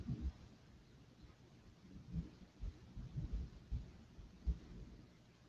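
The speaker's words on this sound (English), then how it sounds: "We here in the Detroit area have one heck of a storm that's just moved in within the last half hour." A thunderstorm over the Detroit area rumbles low and distant, with soft irregular rolls of thunder and a quiet steady wash of rain underneath.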